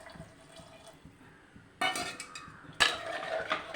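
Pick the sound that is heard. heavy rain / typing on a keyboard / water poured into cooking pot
water poured into cooking pot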